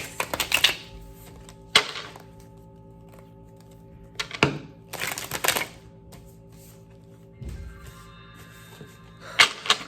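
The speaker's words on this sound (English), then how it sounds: "I'm gonna shuffle about 4 times." A tarot card deck is shuffled in several short bursts of riffling and slapping cards, each followed by a quiet pause, with a soft steady music hum behind and no speech.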